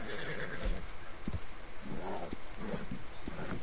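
Horse in Red Dead Redemption 2 neighing and whinnying in short repeated bursts, close and fairly loud, with hooves clip-clopping underneath.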